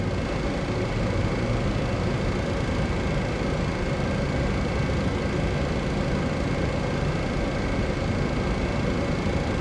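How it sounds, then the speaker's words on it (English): Boeing 707 jet engine spooling up during start in Microsoft Flight Simulator 2024, a loud, steady droning roar with a high whine holding evenly throughout and no speech. "Engine start valve open."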